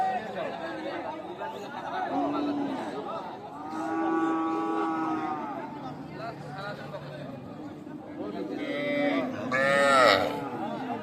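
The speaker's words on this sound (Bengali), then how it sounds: "এখানে একটা ক্রস ফ্রিজিয়ার ষাঁড় বাচ্চা" A cross Friesian bull calf moos at an outdoor cattle market, drawn-out bellows rising over a steady murmur of nearby voices and market chatter, with a louder, higher call near the end.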